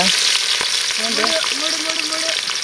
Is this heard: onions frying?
yes